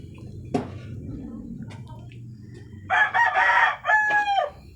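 A rooster crows loudly nearby in a long, rising call, after a soft click and quiet background clucking.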